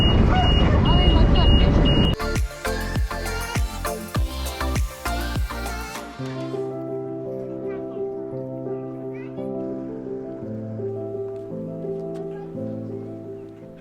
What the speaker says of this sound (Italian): C'è l'allarme del GS che suona.